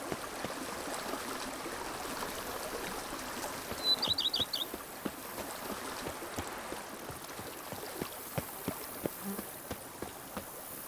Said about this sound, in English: Got a little creek.